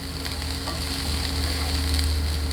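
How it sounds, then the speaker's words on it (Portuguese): Chopped onion sizzles in a large frying pan as it is sautéed for a tangerine risotto, a steady close crackle with faint scraping and no talk. "Então aqui eu já cortei a cebola. A gente vai refogar ela para entrar com o arroz."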